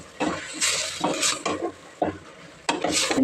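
A spoon mixes MTR sambar powder and grated coconut in a pan, scraping and clinking against the metal in several short strokes with a faint sizzle, close by.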